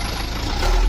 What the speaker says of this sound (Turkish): Buradan bizim yayla göçümüz göçü götüren arabamız geliyor.